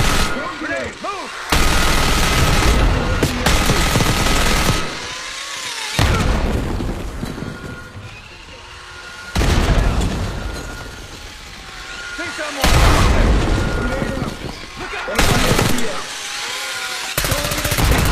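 Heavy booming blasts and sustained gunfire in Call of Duty: Black Ops 6, with loud bursts alternating with brief quieter gaps as a grenade explosion lands amid the firefight.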